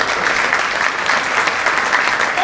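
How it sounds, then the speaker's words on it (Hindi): Hearty applause from a sales-training audience, a dense, loud and even burst of many people clapping at once. "भैया के लिए जोरदार तालियां पड़े"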